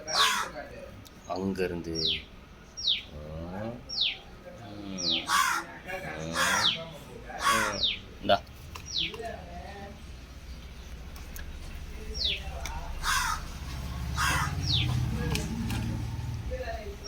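Several crows caw loudly and repeatedly for food outdoors, harsh calls coming in rapid bursts, while a person speaks briefly amid the noise.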